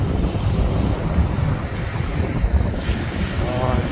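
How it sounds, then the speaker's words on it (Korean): Strong wind buffets the microphone by the sea, with waves and surf rushing underneath in a loud, continuous roar, close and without talk. "바람이 상당히 많이 붑니다."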